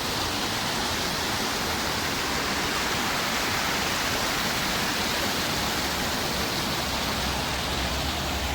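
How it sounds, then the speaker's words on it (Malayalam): Water pouring over a small artificial waterfall in Elmore Park, Rugeley, a steady broadband rush heard up close with no breaks and no voices. "ഒരു ചെറിയ വെള്ളച്ചാട്ടമൊക്കെ ഇവിടെ ഒരു ക്രിയേറ്റ് ചെയ്ത് വെച്ചിട്ടുണ്ടല്ലോ"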